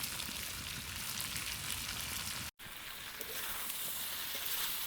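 Boiled taro stolons and fried prawns go into a hot pan for a Bengali kochur loti chingri dish, setting off a steady, close sizzle that is cut off for an instant midway and then continues.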